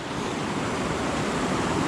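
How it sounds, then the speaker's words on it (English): Fast-flowing river water rushing through a fishing barrage at night, a steady broad roaring wash with no breaks, fairly quiet and even throughout. "there's a big eddy here with heaps of fast flowing water down there"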